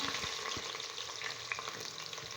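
A large onion, sliced lengthwise, sautés in hot oil in a pan for tomato rice, making a steady, fairly quiet sizzle with occasional stirring clicks and no talking.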